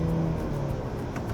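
Engine of a 10th- or 11th-generation Mercedes-Benz E-Class with a slightly sluggish automatic transmission, heard from inside the cabin as a steady hum that rises and settles through downshifts and upshifts.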